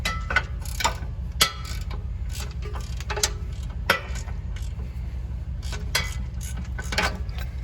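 Wrench loosening the shock absorber bolts on a Chevy Suburban during rear differential work, giving a run of sharp metallic clicks and ratchet-like ticks over a steady low rumble.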